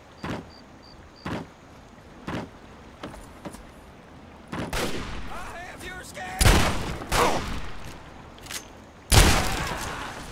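Hunting rifle fire in Fallout 3's Point Lookout: several sharp, distinct shots spaced apart over a quiet backdrop, growing louder and denser toward the end with heavier booming blasts.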